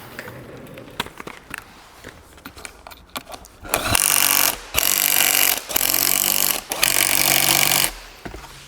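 A power tool tightens the mud guard on a BRZ 110cc semi-auto pit bike in four loud, evenly spaced bursts, each about a second long, after scattered clicks and knocks from handling parts.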